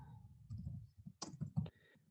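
Keys clatter on a computer keyboard as labels are typed, a quick uneven burst of soft clicks and a few sharper taps, close and quiet, with no voices.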